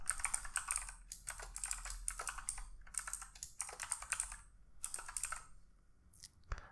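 Rapid keystrokes on a computer keyboard while an interface name is typed during Android coding, coming in quick bursts with brief pauses, close and clear against a quiet background with no talking.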